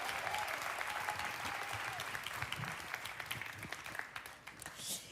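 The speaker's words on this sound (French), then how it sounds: "un chef extraordinaire, Pasteur Mike, vraiment applaudissez-les là" A church crowd claps steadily for several seconds, the applause gradually thinning out toward the end, with a few faint voices underneath.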